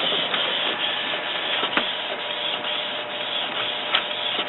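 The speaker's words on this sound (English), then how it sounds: "Now I'm back at the printer now," A Canon MG-series inkjet printer fitted with a continuous refill ink system runs a print job, giving a steady mechanical whir with periodic clicks and carriage thumps, close and alone without speech.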